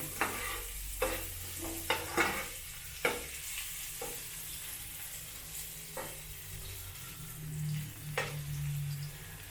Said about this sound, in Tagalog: Pag mainit na mga bossing, ilagay na natin yung luya.